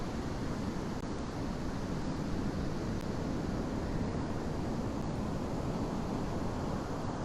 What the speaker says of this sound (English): Some describe this sound as the ocean breath.